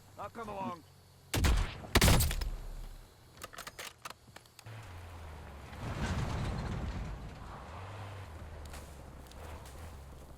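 Gunfire in the online shooter Warzone arrives as two sharp clusters of shots, followed by lighter clicks and mechanical sounds. A player's voice talks softly over the background game noise afterward.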